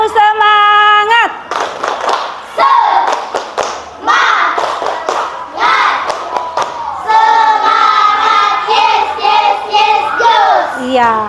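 A classroom group performs a rhythmic spirit clap, sharp claps in patterned bursts mixed with chanting voices of children and a teacher, loud and close.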